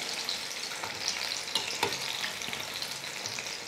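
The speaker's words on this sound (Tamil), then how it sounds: "ஒவ்வொரு உருண்டையாக எடுத்து நம்ம மாவில் எடுத்து நனைச்சி எண்ணெயில் போட்டுக்கலாம்" Bonda balls dipped in batter deep-fry in hot oil with a soft, even bubbling hiss and a few light clicks of a spoon turning them, heard close and with no voices.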